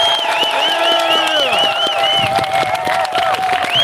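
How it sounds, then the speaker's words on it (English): A crowd at an outdoor May Day remembrance of the Bay View massacre claps and cheers for a group of students, steady loud applause running throughout with whoops and voices mixed in. "Round of applause for all of you."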